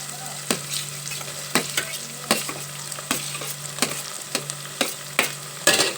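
Tomatoes and onions frying in a pan for mutton mulankada curry, a steady sizzle with repeated sharp scraping stir strokes roughly every second, close and alone without talk.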